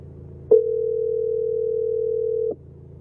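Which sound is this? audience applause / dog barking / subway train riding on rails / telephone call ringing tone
telephone call ringing tone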